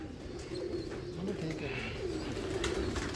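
Fancy-breed pigeons give soft, low cooing over a constant background hum, with faint chirps above, sounding moderately distant and continuous throughout.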